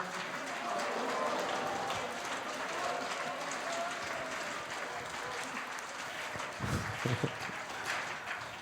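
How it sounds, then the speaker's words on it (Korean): A church congregation claps in sustained applause offered to God after a worship song, a steady crowd roar with a few sharper claps and faint voices rising toward the end. "주님께 영광의 박수를 드리겠습니다."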